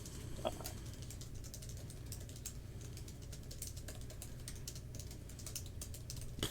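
Rapid, steady clicking of keys on a computer keyboard during a typing speed test, continuous and close over a low background hum, with no talking.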